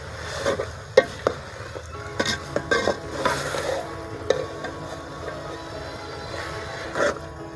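Masala for mooli paratha frying in a pan, with a soft continuous sizzle broken by repeated spoon taps and scraping stirs against the metal, close and moderately loud, no speech.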